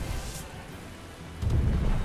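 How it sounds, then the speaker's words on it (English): A rain spell cast in the video game Magicka makes a rumbling, thunder-like rush of rain that swells louder partway through. "rain is a powerful spell in this game"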